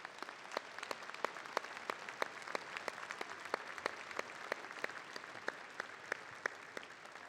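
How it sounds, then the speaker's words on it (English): Students at a university freshman convocation applaud their families, a quiet, distant wash of clapping with sharp individual claps popping out irregularly throughout the hall. "I would like you to turn to the parents, the family members, the friends that are standing here today and applaud them"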